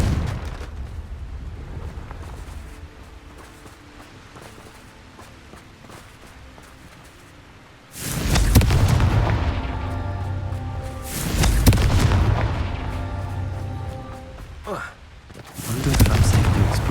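Confringo fire spell blasts in the video game Hogwarts Legacy, three loud booming bursts spaced a few seconds apart after a quieter stretch, each with a crackling tail.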